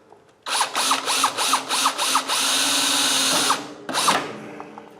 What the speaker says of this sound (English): so we can run our drill in through the chassis, through the aluminum holes that we've already made